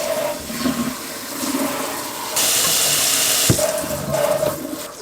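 Cold tap water runs while a child's natural curly hair is rinsed, a splashing flow that surges into a loud rushing burst midway, then eases back to a gentler trickle.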